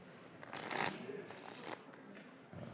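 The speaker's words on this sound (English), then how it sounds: "Shuffle them up, shuffle them up." A deck of playing cards is shuffled by hand in a few quick riffling bursts, close and crisp, with brief pauses between them.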